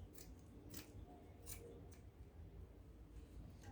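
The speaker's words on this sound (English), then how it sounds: "we're cutting this out" Scissors cutting out fabric for a bustier gown, several crisp snips spaced about half a second apart, close and quiet against a low room hum.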